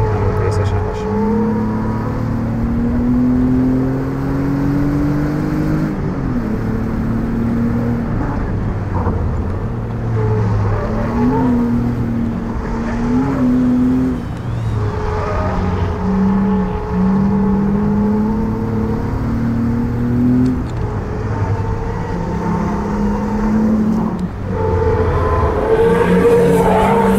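A BMW M4 or Ford Mondeo ST220 engine pulls through a timed lap on a track, its note rising and falling with gear changes and throttle, heard from inside the car while someone talks over it.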